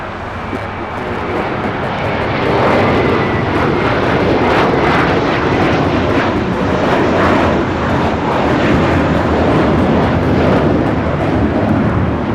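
Airbus A380 airliner at LAX, a loud, continuous, deep engine roar that stays steady and powerful throughout with no talking over it.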